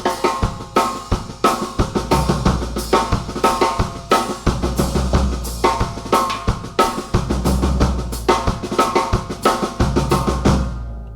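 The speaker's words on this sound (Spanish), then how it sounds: "El samba reggae suena así." A samba reggae groove pounded out on a drum kit, dense and loud, with heavy low drum hits repeating in a driving, syncopated cycle over constant cymbal wash, close and with no voices.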